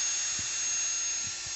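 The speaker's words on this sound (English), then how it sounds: "I'm using the same drill with a white 3-inch sanding disc" A steady, high-pitched whirring of a power drill with a white 3-inch sanding disc sanding a car headlight, running continuously at close range with no talk.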